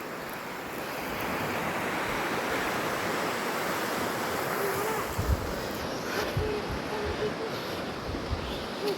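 Strong river current rushing steadily across a wide river crossing, a dense continuous roar of flowing water heard close and loud, with a few low thumps of movement near the end and no talking.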